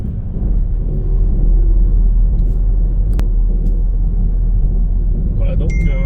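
A car engine on a mountain road holds a loud, steady low rumble as the driver shifts into third gear, with voices talking over it.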